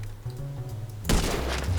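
Gunfire in GTA 5 aimed at a boar: a low rumble gives way to a sudden loud burst of shots and a sustained noisy blast that carries on to the end, with no voices.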